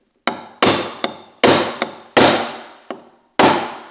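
A hammer taps a model railway track pin in over an old bolt, about eight sharp, close knocks at an uneven pace, each ringing briefly before the next.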